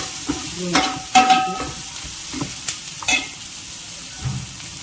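Fish curry with onions sizzling in a pan while being stirred, a steady close frying hiss broken by scattered scrapes and knocks of the spoon against the pan, with no talking.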